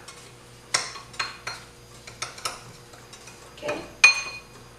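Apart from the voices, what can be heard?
mixing seasonings together in a bowl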